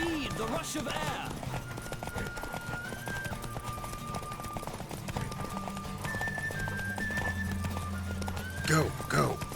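A galloping horse pounds along in a Witcher 3 race, rapid hoofbeats running steadily beneath game music, with a shouted voice near the end and a brief whinny.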